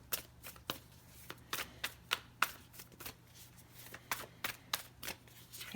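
Animal Oracle deck cards being shuffled, a steady series of crisp riffling snaps and flicks repeating roughly every half second, close and clear against a quiet room with no talking.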